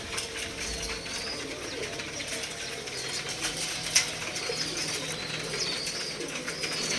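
Pigeons coo softly amid a busy outdoor backdrop, with occasional wing flutters and a faint sharp click partway through.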